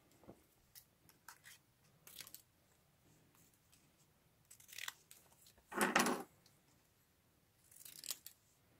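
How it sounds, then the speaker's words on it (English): Small scissors cutting strips from yellow scrap paper, heard as scattered, quiet, close snips with short pauses between them and no talking. "I will just cut some strips from the yellow. I will actually take some smaller scissors."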